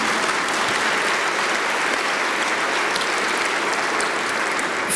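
An audience applauds at a gala dinner in Detroit's Cobo Center, a dense, steady wash of clapping that stays loud and even for the whole stretch, with no voices rising above it.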